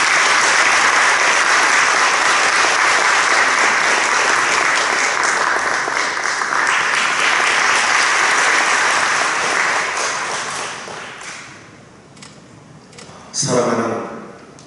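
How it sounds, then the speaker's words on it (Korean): A hall audience at a church general assembly candidates' forum breaks into loud sustained applause to welcome a vice-moderator candidate, the clapping fading out near the end before a brief burst of speech. "우리 큰 박수로 모시도록 하겠습니다."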